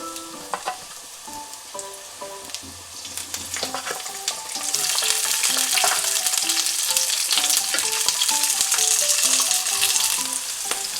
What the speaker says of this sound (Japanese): 最初2分ぐらいかぼちゃを焼いて半分ぐらい火を通ったらそこにパプリカとオクラを入れて焼いていきます